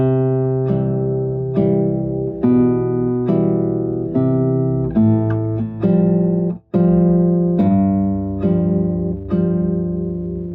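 Classical guitar playing measures 5 to 8 of a Sagreras Book 1 lesson piece: clear plucked notes and bass tones in a steady, moderate triple rhythm, close and solo with no talk.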